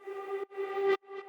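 A reversed synth playing a D note with long reverb, swelling in three tonal bursts that build and cut off abruptly, the last one softer.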